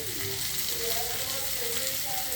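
Bitter gourd fries in a pan with a steady, loud sizzle that stays dense and even throughout, with faint stirring beneath.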